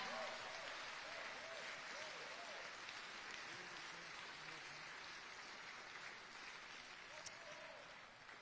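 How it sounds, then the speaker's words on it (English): Continuous crowd applause at the opening ceremony of the 2023 IBSA World Games as an orchestra leaves the stage, a dense, fairly distant wash of clapping with faint voices mixed in. "give them another round of applause"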